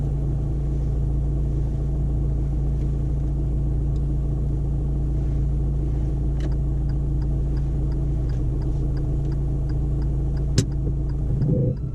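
A learner driver's car idles and pulls away on a driving lesson, a steady low engine rumble throughout with faint ticking and a sharp click near the end.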